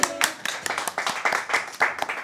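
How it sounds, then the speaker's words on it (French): A small group of people claps together to welcome visitors to a pink-and-white house, a brisk, fairly close patter of uneven hand claps lasting a couple of seconds with no voices over it. "On applaudit."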